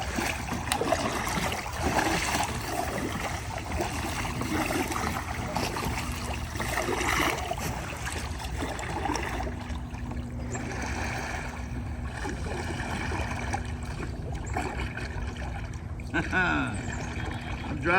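A Tucktec folding kayak fitted with a stabilizer kit moves through water, with steady broadband splashing and swishing of paddle strokes close by, while a person talks over the water noise.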